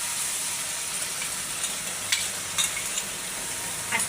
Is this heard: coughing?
no